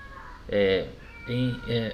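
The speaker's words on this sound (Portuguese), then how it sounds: "Tem um gato aqui que está meio" An agitated cat meows three times in quick succession, loud and close, each call a drawn-out wavering cry with brief pauses between.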